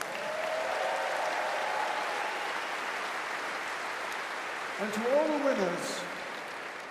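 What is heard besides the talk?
audience applause for the winners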